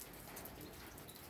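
Rain falls on Holy Friday in the Philippines, a brief, faint, even patter that stays steady throughout.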